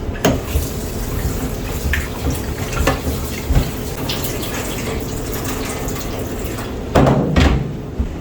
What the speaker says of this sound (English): I like to give it a second rinse.